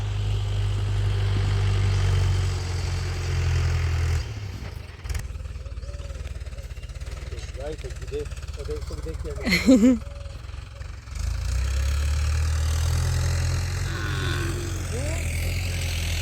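A steady, low tractor engine drone rumbles nearby during field sowing, cuts out for several seconds while faint voices come through, then starts up again at the same level.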